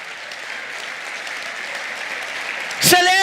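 A church congregation claps along during a worship celebration service, a steady, moderately loud wash of clapping that swells near the end as a voice rises over it.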